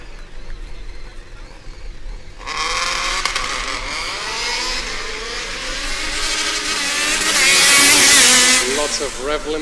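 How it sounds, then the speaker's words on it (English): A Formula Student race car in an acceleration event starts with a sudden loud engine roar that climbs in pitch, then stutters against the rev limiter in choppy bursts toward the end, with a commentator talking throughout. "Lots of rev limiter, especially towards the end of the run."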